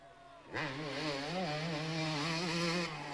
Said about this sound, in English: You can hear the sound of that engine reverberate through the trees.